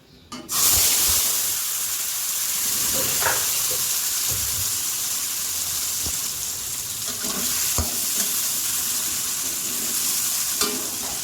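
Potatoes frying in oil in a kadai for a homemade mochar ghonto, a steady loud sizzle with occasional scraping and stirring clatter, no voices.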